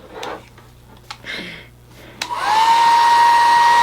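Hair dryer blowing warm air on a dress held together with Secure Stitch glue: a few clicks and handling noises, then the dryer switches on and runs with a loud, steady whirring roar up close.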